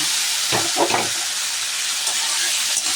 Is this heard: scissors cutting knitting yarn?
no